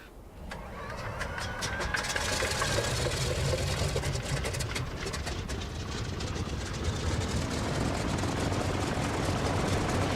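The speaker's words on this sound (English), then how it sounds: "the sound of this airplane is a little bit louder than other airplanes" The twin radial propeller engines of a Douglas DC-3 in the X-Plane 12 flight simulator, in TAP Portugal livery, run with a loud, steady rumbling drone after a brief start, continuous and close throughout.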